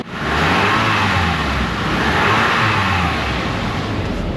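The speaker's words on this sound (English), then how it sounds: "Let's hit the gas" A car engine revs hard and steadily as the gas is pressed during shop diagnosis of sticking solenoids, a loud continuous roar close by with no talk.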